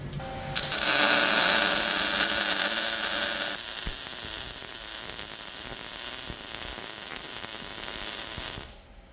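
MIG welding a bead on a belted, prepped steel piece with shielding gas, a steady close crackling buzz running for about eight seconds after a short start, then cutting off abruptly.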